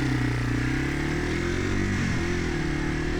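A Yamaha TW200 carbureted motorcycle engine runs steadily and loudly up close, with a low, throbbing single-cylinder rumble and no voices.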